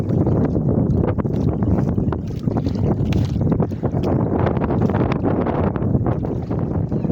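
Strong wind roars and buffets the microphone continuously, with rough gusty rumbling and splashy bursts throughout.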